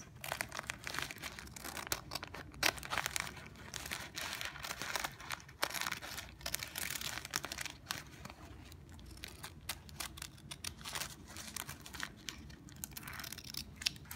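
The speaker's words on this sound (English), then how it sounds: "Now we're gonna cut our flower shape." Scissors snipping through paper to cut a rounded flower shape with petals, a steady run of close, quiet crisp snips and paper crinkles across the whole stretch, with no talking.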